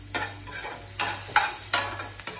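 A spoon stirs spices and a pinch of turmeric in a hot pan, scraping in four distinct strokes about every half second over a steady low sizzle.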